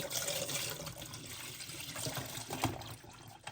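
About 1.5 litres of water poured into a cooking pot, a faint, steady splashing trickle that runs continuously throughout, with no talk over it.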